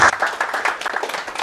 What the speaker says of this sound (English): So please give a round of applause to Geoff.